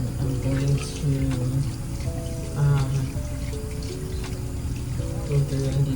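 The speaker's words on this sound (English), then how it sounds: "So I'm gonna rinse off my hands" Tap water runs steadily as hands are rinsed under it, a soft continuous hiss with a voice talking over it throughout.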